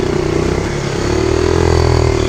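A motorcycle on a Peruvian jungle trail runs close by with a steady, loud engine drone that rises slightly in pitch as it revs through a short stretch.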